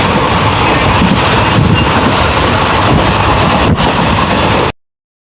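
A moving passenger train heard from inside a carriage: a steady, loud rumble of wheels and rails runs unbroken for nearly five seconds, then cuts off abruptly. No voices.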